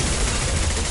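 Rapid gunfire in the video game Mass Effect Legendary Edition, a dense continuous burst of shots filling the whole moment, loud and close with no talking.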